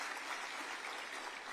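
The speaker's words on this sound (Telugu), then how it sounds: "వారికి ఒకసారి గట్టిగా చప్పట్లు కొట్టాలని చెప్పి కూడా నేను కోరుతా ఉన్నా" Loud, steady applause from a large audience at a political speech, sustained clapping throughout with no break, honouring former corporators.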